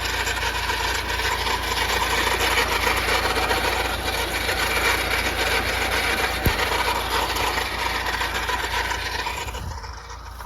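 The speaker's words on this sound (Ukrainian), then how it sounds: "Так, косарочка працює." A Zarya rotary lawn mower mowing an overgrown vegetable plot, its engine droning loud and continuous at close range with a steady rasping whir, no speech, tapering slightly at the very end.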